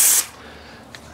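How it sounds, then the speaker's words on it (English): A paint spray gun fires a short test burst as a loud, sharp hiss for a fraction of a second, then cuts off into quiet room tone. "test my spray pattern before I get started"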